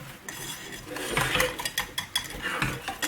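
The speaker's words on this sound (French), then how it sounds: "On mélange bien au fouet." A whisk scrapes and clinks around a pan as soy milk is mixed with custard powder, giving irregular metallic stirring strokes and light rattles up close with no talking.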